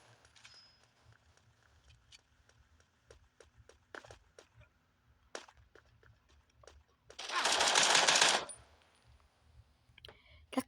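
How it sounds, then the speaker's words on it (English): Machine gun fire in a video game: a run of short, sharp bursts and clicks, then a loud sustained roar of rapid fire about a second long, with a few clicks after. "That's a machine gun, probably does a lot of damage"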